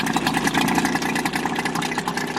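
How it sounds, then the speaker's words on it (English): An outboard boat motor, previously prone to stalling, holds a steady low idle once the choke is closed, a continuous close, even mechanical hum with no one talking. "it stayed running at a nice low idle and wasn't stalling out anymore"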